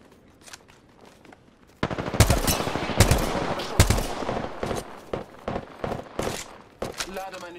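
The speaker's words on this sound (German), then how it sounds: "Ich stehe unter Beschuss" Video game gunfire in Apex Legends: after a quiet opening with a few scattered pops, a loud burst of rapid automatic shots and heavy cracks hammers away in uneven bursts, with a voice talking faintly underneath.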